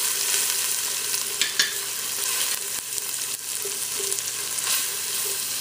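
Steady sizzling of curried corn frying in a pan with turmeric, with a few soft clinks and stirring sounds over the constant hiss.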